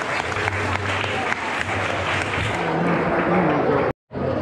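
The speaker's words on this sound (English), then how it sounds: "Let's have a round of applause." An audience at the Dangerzone Fight & Flight 2019 robot combat event applauds steadily after a fighting match, with dense crowd clapping and noise that holds level before cutting out abruptly near the end.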